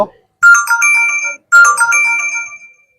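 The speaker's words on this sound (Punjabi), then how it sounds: "ਫੋਨ ਦੇ ਨਾਲ ਤੇ ਫੋਨ ਵੱਜ ਗਈ" A phone ringtone plays loudly in two bright melodic bursts separated by a short gap.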